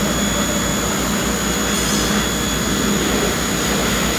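A motocross motorcycle engine at a race track, a loud, steady roaring drone running without a break, with no voices over it.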